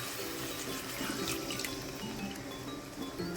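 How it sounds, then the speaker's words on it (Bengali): Water pours steadily into a pan of simmering curry with oil already separated, a continuous close splashing, trickling flow lasting throughout with no talk. "অল্প জলও দিতে হবে"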